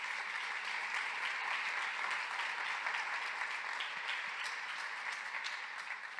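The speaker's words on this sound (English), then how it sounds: "I would like to just give a brief round of applause for the three on the stage with me today" A conference audience applauds three panelists on stage, a dense, even round of many hands clapping that holds steady throughout and tapers slightly at the end.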